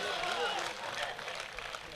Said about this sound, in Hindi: एक बार जोरदार ताली उठे।